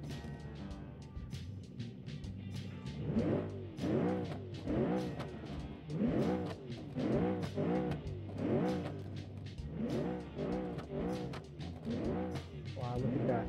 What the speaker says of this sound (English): It's just your typical family wagon, but you know, with a monster engine up front and a flame throwing exhaust.